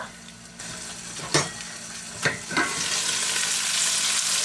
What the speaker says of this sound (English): open it up and just give it a good stir and a turn